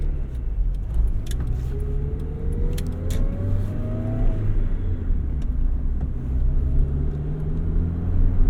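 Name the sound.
1991 Honda Civic Si engine starting up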